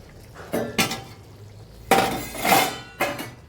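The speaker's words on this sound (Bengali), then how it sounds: "এবারে ঢাকাটা খুলে নেব" A metal lid comes off a cooking pot of vegetable curry, giving a few distinct clanks and clinks spaced over a few seconds, close and fairly loud.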